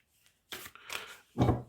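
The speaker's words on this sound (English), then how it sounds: "I'm shuffling your cards on the camera so that we all are on the same page" Tarot cards shuffled by hand in three short bursts of riffling and sliding, with brief pauses between, close and fairly loud.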